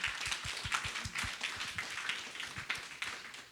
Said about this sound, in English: another round of applause for you all